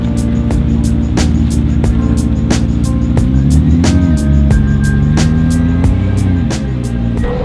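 A McLaren P1 supercar drives past amid other McLarens, its engine a loud steady drone with shifting pitch over constant rumble, heard from inside a moving car with regular rhythmic ticking.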